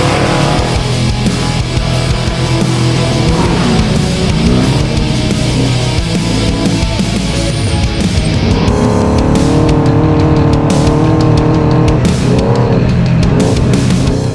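A trophy truck races a qualifying lap on a desert track, its engine roaring loudly and continuously close by, swelling and shifting in pitch as it powers through the course.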